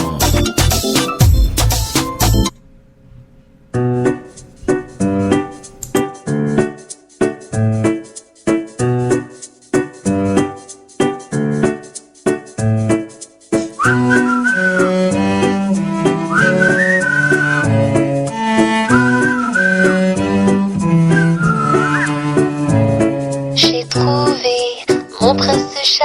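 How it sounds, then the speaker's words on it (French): Music played on a French-language radio station, a plucked melodic instrumental that opens sparsely with separate notes, then fills out into a fuller, steady arrangement with a sustained melody line, loud and continuous, no speech. "Écoutez la musique sur nos ondes maintenant"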